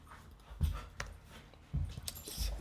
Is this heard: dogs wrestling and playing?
yes